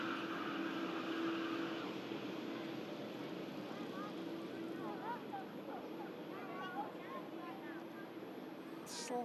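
A Jet2 airliner touches down on runway 23R at Manchester Airport, a distant, steady engine roar and rush of air with a voice talking over it.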